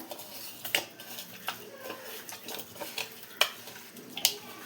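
Hilsa fish pieces worked by hand with salt and turmeric in a bowl: soft, irregular squelching and light clicks, with a few sharper knocks from the dish, close up and without speech.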